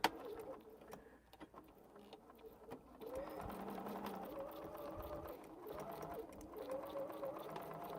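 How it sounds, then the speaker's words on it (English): A sewing machine stitches a 1/8-inch quilt seam at an angle around a triangle piece, starting with scattered clicks and short bursts, then running in a steady close whir with brief pauses and faint talk. "now we want to stitch around this other part here"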